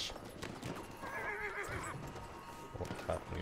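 Horse neighing in the World War I shooter Battlefield 1, a clear whinny mid-clip with hooves clip-clopping beneath, set against battlefield noise while a voice talks.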